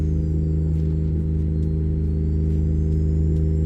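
A tuned Detroit Diesel DD60 truck engine in American Truck Simulator, a steady deep droning exhaust with a constant low rumble, close and even throughout, no talking.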